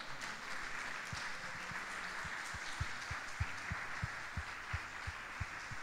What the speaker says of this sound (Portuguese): Quem crê e recebe, aplauda o Senhor Jesus.